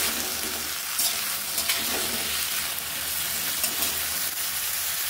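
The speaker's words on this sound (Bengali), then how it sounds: "লবণটা অ্যাড করার পরে একটু নেড়ে নেব।" Salted potatoes and vegetables stirred in a hot frying pan, a steady close sizzle with scraping stir strokes throughout, and no talking.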